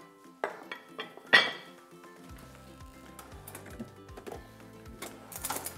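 A serving plate being handled in a kitchen while preparing Cretan ezme dip, giving a few sharp ceramic clinks and knocks at close range, with scattered quieter clatter between them and no talking.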